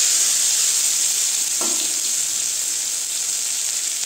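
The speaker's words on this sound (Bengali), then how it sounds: "এর মধ্যে দিয়ে দিব আমি মটরশুঁটি যে পেস্ট করে রেখেছি সেটা দিয়ে দিচ্ছি" Ground green pea paste sizzles as it hits hot mustard oil in a pan for Bengali kochuri, a loud, steady crackling hiss that holds throughout with a brief soft clunk partway, close and without talk.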